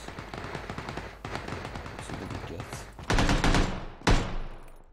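Automatic rifle fire in the battle game PUBG: loud sharp bursts of shots near the end, following a stretch of dense rattling activity, with a voice faintly underneath.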